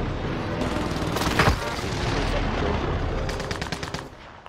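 Gunfire in Call of Duty Warzone on Rebirth Island, a dense, continuous barrage of shots with a sharp crack early on and a rapid burst of automatic fire near the end, amid loud battle noise.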